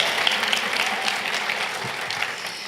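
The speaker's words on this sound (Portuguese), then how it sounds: "Momento de palmas." An audience claps steadily throughout, a dense wash of applause from a moderately sized crowd.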